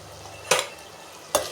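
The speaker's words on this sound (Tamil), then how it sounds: "இதுவும் நல்லா வதக்கிக்கலாம்." Large onions sautéing in a pan for Erode palipalayam chicken give two short, crisp bursts of stirring and sizzling, close by with a quiet pause between them and no talk.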